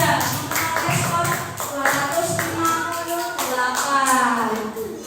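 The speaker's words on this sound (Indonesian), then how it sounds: "Tepuk tangan untuk kelompok 3." Schoolchildren in a grade 4 classroom clap in rhythmic bursts for a group, loud and close, with young voices chattering and calling out over the clapping.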